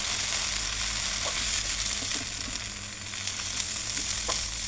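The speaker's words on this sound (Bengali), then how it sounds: "পোলাও চালটা যত বেশি সুন্দর করে ভাজা হবে" Steady sizzling of polao rice frying in a pan for chicken biryani, a continuous crackling hiss with occasional soft stirring scrapes, close and moderately loud with no talk.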